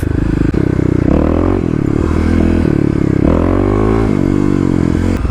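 A Kawasaki KLX351 dirt bike with its secondary throttle blade removed roars up close, its engine revving up and down through repeated surges as it is ridden.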